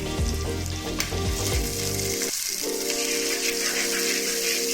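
Loud, steady sizzling of onions frying in a pan, with scraping stirring noises early on before the sizzle settles into a continuous hiss.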